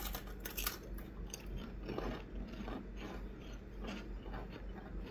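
Sea salt and cracked black pepper pork rings crunch up close as they are chewed, a steady series of dry, crackling bites and grinding chews with no talking.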